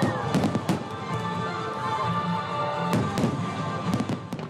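National Day fireworks in Chiayi County, Taiwan, burst as loud sharp bangs and crackles in irregular clusters over a continuous rumbling, echoing din.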